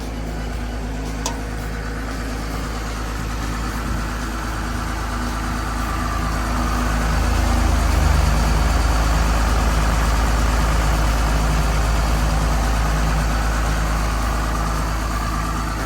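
The heavy six-cylinder diesel engine of a Komatsu WA300-3 wheel loader idles steadily with a low, continuous rumble, close by and unbroken, with no voices.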